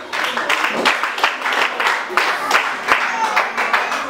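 Church congregation at a large gathering claps in a loud, uneven rhythm of bursts, with voices and shouting mixed in over the clapping.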